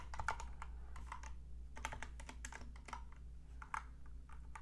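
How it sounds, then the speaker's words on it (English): Keyboard keys clatter in uneven bursts of quick taps and pauses, close and fairly quiet over a steady low hum, with no talking. "sorry, my typing skills are horrible, guys."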